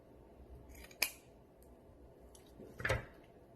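Scissors snip through wreath material while trimming a hanging piece shorter, giving two short, close cuts about two seconds apart over a quiet background.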